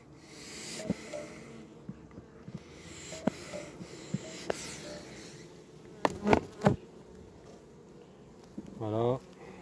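A honeybee swarm in a hive buzzes while Apivar strips are put in, a steady hum with individual bees flying close past the microphone, plus occasional knocks and handling noises.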